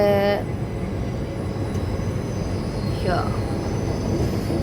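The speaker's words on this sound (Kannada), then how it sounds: "ಸೊ ಟ್ರೈನ್ ಮೂವ್ ಆಗ್ತಿದೆ ಈಗ" A train on the Bangalore to Pondicherry route begins moving, with a steady low rumble of rail cars throughout and a brief rising wheel squeal near the end, heard close up.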